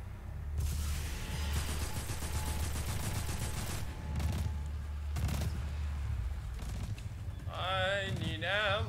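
Bursts of hand cannon fire in the video game Destiny 2, rapid repeated shots in close succession with a few separate blasts, followed by warbling electronic game effects near the end.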